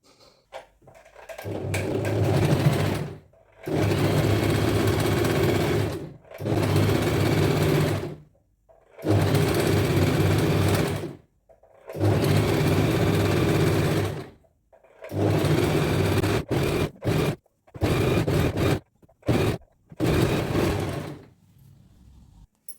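A sewing machine stitches a scallop border on kurti cloth in several bursts of steady whirring, each lasting a few seconds with short pauses between, the last runs quicker and choppier, close and loud with no talk.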